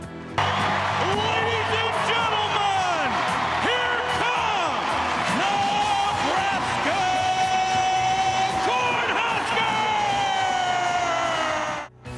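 A packed arena crowd at a U.S. college women's volleyball match (Nebraska Cornhuskers) applauds and roars steadily as players enter, with loud music playing over the sustained crowd noise.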